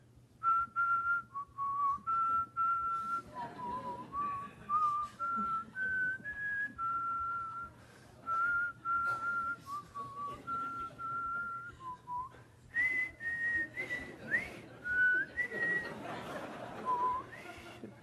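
A person whistles a melody in clear, sustained notes, phrase after phrase, fairly close and alone with no talking.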